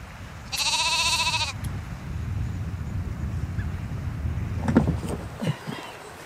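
Sheep bleat loudly on Auskerry in Orkney, a harmonic call standing out against steady wind and outdoor rumble, followed by a few fainter knocks and rustles.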